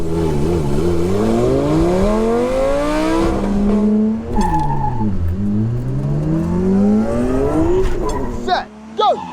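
A Nissan GT-R and a Lamborghini Gallardo roar as they accelerate hard, engine notes climbing steadily through the gears before a brief shift dip, loud and close throughout.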